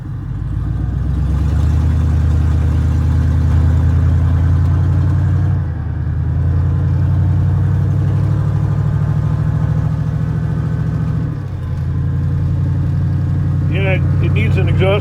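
A car engine running with only headers and no exhaust system idles loudly and steadily with a raw, rumbling, unmuffled tone, dipping briefly twice as if blipped, with faint voices near the end.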